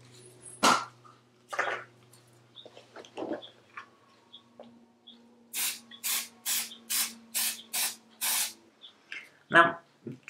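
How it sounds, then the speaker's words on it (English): Electrical contact cleaner sprayed into retro computer equipment: a run of short, close, hissing spray bursts in quick succession, preceded by scattered handling clicks and knocks. "we're just going to spray it in and let it do its job."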